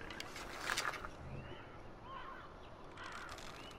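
Game bird in Far Cry 4 calling with a few short cawing cries over a quiet in-game outdoor ambience, faint and somewhat distant, with a brief rustle or thump early on.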